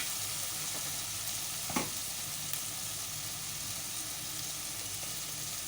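Onions and tomatoes sizzling in a pan as they are stirred for a taro curry, a steady fine hiss of frying with a few soft scrapes, moderately quiet and continuous.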